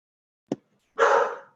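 A dog indoors at home barks nearby: a short clipped yip, then a single longer, louder bark.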